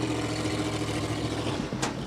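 Rally car engine at an African Rally Championship event revving steadily and loudly, a sustained low drone with a brief sharper burst near the end.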